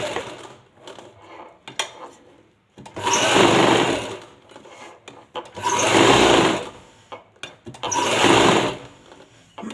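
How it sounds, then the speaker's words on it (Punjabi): A sewing machine stitches a neckline in three loud, sustained bursts of rapid needle rattle, separated by short pauses filled with fabric handling and small clicks, heard up close with no talking. "ਪੈਰ ਦੀ ਸਿਲਾਈ ਦੇ ਨਾਲ ਨਾਲ ਸਿਲਾਈ ਲਗਾ ਲਾਂਗੇ"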